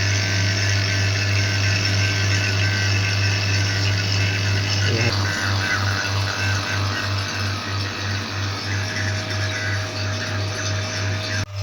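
A vacuum pump running on a fridge gas line during gas charging, a steady mechanical hum with a low pulsing throb, continuous and close, shifting slightly partway through and running on without pause.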